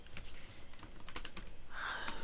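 Quick, light keystrokes on a computer keyboard clatter in an irregular burst of taps, close and fairly quiet, with no talking over them.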